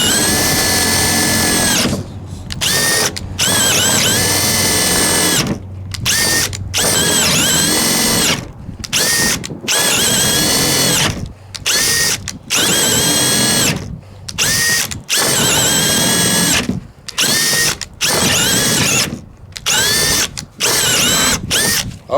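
An 18/20 volt cordless compact drill boring a hole, a loud close whine that runs steadily for several seconds and is cut off again and again by short stops and restarts.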